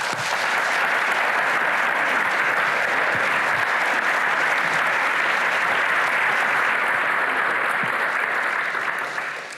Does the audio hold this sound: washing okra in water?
no